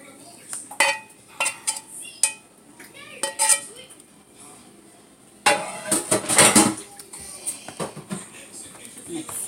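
Cooked spinach is spooned into a dish for stuffed chicken and spinach shells, with sharp clinks and scrapes of a metal spoon against the dish, intermittent and close, growing busier toward the end.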